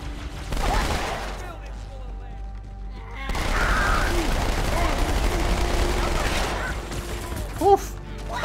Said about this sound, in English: You're shooting so many bullets so quickly.